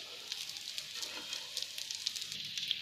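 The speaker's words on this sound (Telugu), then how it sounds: "ఇలా కట్లెట్ లాగా చేసుకుని ఇలాగ ఫ్రై చేసుకోండి" Aloo cutlets frying in oil in a pan, giving a soft, steady sizzle with fine crackling pops throughout, faint and close.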